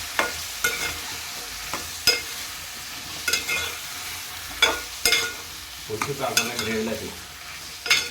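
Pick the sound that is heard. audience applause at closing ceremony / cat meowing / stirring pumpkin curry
stirring pumpkin curry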